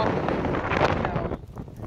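Steady, roaring wind buffets the microphone, a dense broadband rush that eases slightly near the end.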